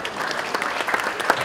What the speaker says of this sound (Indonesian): Berikan tepukan kepada mereka.